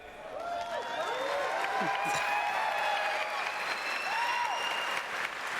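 Audience applause at the E3 2019 show fills the whole stretch, a steady dense wash of clapping and crowd noise, with a voice speaking over it.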